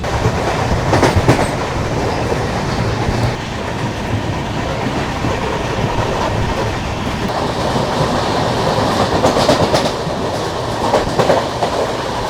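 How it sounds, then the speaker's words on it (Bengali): The Kolkata to Guwahati Garib Rath Express rolls along with a continuous rumble and rhythmic clickety-clack of wheels on rails, with occasional louder rattling bursts. "আমাদের ট্রেন আবার রওনা দিল"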